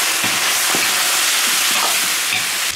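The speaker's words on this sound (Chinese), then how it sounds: "炒香以后倒入排骨" Pork ribs fry in a wok with scallion, ginger, star anise and soybean paste, giving a loud steady sizzle with a few faint stirring knocks, close up and without talk.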